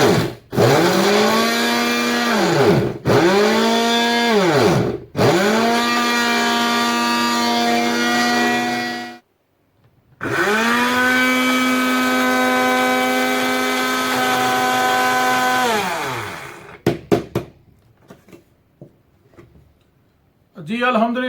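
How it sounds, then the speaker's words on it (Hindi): An electric grinder grinds almonds and fennel seeds, with a loud whining motor that runs in several bursts separated by short stops, rising and settling in pitch each time before winding down to a few final clicks. "सारा जो अपना बादाम और सौंफ जो है अल्हम्दुलिल्लाह अच्छे से ग्राइंड हो गया"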